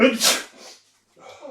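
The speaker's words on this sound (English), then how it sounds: "I'm going to sneeze." A single loud, sharp sneeze bursts out up close from a person during a live film chat, followed by a brief pause and a short spoken exclamation.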